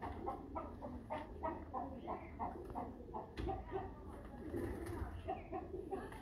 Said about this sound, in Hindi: ये भी फेवरेट कबूतर है मेरा, ये भी टैडी है